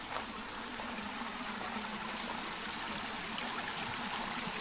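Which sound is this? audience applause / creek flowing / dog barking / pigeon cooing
creek flowing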